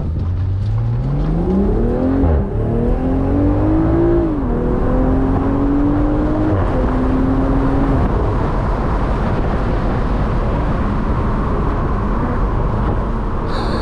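A 2023 BMW Z4 M40i LCI in Sport Plus mode accelerates hard through several gears, the exhaust note rising steadily then dropping at each upshift, loud and continuous from inside the car with road roar underneath.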